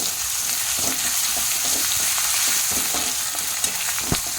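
Ground poppy seed paste frying in a pan, a dense steady sizzle close up with a few soft stirring knocks and scrapes, no talking.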